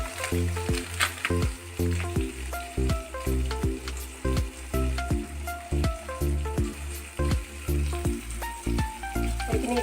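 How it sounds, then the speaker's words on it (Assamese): Jackfruit curry with turmeric and ground cumin frying in a pan, a steady moderate sizzle broken by regular rhythmic scraping stirs, with no talking. "এইখিনি এতিয়া অকণমান সময় ভাজিবলৈ দিম"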